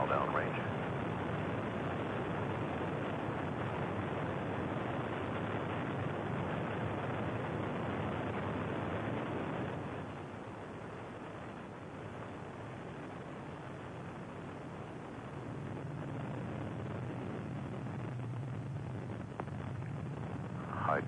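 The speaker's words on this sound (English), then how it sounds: "Main engines all running at normal pressures." Space Shuttle Discovery's main engines roar during the STS-51C launch, a broad, steady rumbling wash heard from a distance that dips slightly midway, with a commentator's voice over it.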